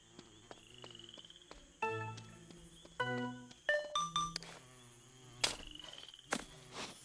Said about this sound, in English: some of them have like frog sounds